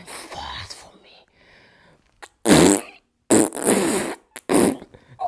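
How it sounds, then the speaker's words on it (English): An Alexa smart speaker plays fart sounds in short loud bursts, spaced apart, with hushed whispery voices between them. "Alexa, do it again, fart for me"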